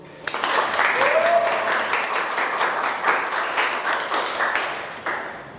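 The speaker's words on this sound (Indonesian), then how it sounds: "Silakan semuanya beri aplaus dulu." A classroom audience applauds after a university group presentation, dense steady clapping from many hands that starts abruptly and tapers off near the end, with a brief voice under it.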